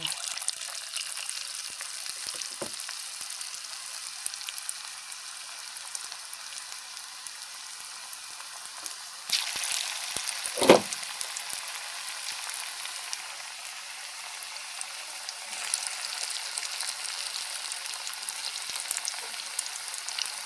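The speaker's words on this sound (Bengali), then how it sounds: "তেলটা দিয়ে দিয়েছি, গরম হলে পেঁয়াজিটা দিয়ে দেবো।" Onion fritters (piyaji) fry in hot oil: a steady, soft hiss of bubbling oil runs throughout, with occasional crackles and a brief, sharper sputter near the middle.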